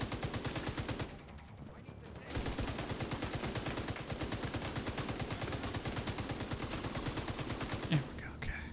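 Enemy turret in The Division 2 hardcore mode firing a fast, continuous automatic stream of shots that runs almost the whole time after a brief gap near the start, loud and rattling.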